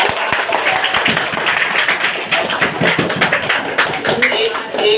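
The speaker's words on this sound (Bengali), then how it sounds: "তাহলে হাততালি হবে।" An audience at a fire service rescue training session claps in a dense, sustained round of applause. It is close and fairly loud, with talking mixed in.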